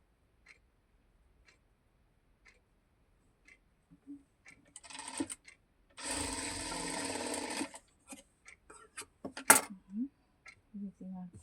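Sewing machine stitching piping onto a square neckline, with one clear burst of steady motor whirring lasting about two seconds among scattered ticks, clicks and handling noises and short bits of speech.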